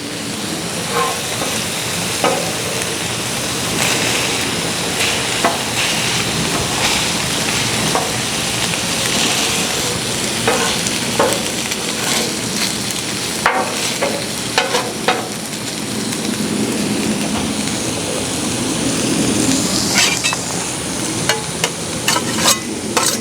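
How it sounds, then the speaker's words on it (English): Flatbread brushed with olive oil cooks on a Blackstone griddle, giving a steady, dense sizzle and frying hiss that holds for the whole stretch, with scattered crackles and pops and no talking. "brush some oil on it and get it on the griddle"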